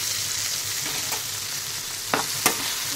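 Stuffed okra (bhindi) cooking in a pan over a medium flame, giving a soft, steady sizzle with a couple of brief sharp clinks from stirring near the end.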